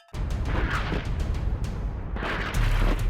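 Deep rumbling boom of an explosion sound effect, a sustained loud low roar with crackling texture that swells again near the end, no voices.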